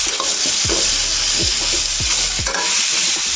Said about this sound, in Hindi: बस इसको आलू को थोड़ी देर ऐसे फ्राई कर लें